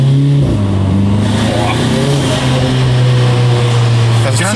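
A VW Golf GTI fitted with an Armytrix valved exhaust revs loudly and close by, its deep droning note climbing and settling in sustained pulls, with the engine dominating throughout.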